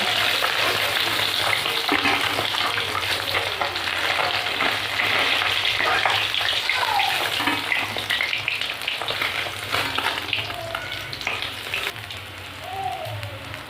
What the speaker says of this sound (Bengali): বাকি মাছগুলো আমি একইভাবে ভেজে নেব